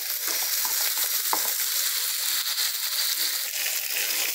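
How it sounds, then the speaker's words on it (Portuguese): Bell pepper and onion sizzle steadily in a hot pan, a dense, continuous frying hiss with occasional stirring scrapes, close and fairly loud throughout. "Eu gosto de ele fritar, dar uma fritadinha primeiro."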